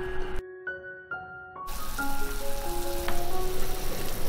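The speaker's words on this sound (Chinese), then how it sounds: "先调大火煮开" Hakka rice wine chicken coming to a boil over high heat, bubbling and sizzling steadily and fairly loud after a brief quiet start, with soft musical tones playing alongside.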